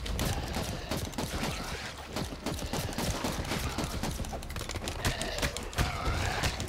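Handgun gunfire in the top-down brawler shooter game Redeemer, rapid repeated sharp shots in dense bursts across the whole clip, loud and close with no talk.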